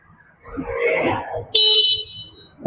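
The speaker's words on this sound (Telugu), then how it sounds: "ఇక్కడ కూడా హార్న్ ఇచ్చారు చూడండి, డబుల్ సైడ్ హార్న్ అయితే వస్తుంది" A short, bright electronic horn beep from an electric scooter sounds once loudly after some talking, with another brief honk starting at the very end.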